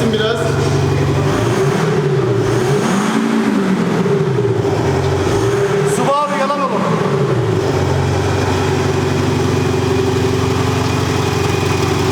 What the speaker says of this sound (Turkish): Abi gaz verir misin?